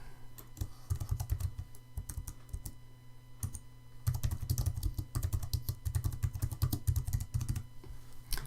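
Steady typing on a computer keyboard, close and crisp, a run of quick keystrokes with short pauses and a denser flurry in the second half, no talking.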